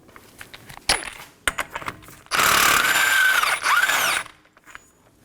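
A ratchet with a 32mm socket working loose the front axle nut on a 2015-2023 Nissan Maxima, a few metallic clicks and clanks followed by a loud, buzzing two-second run of rapid ratcheting, then quieter taps.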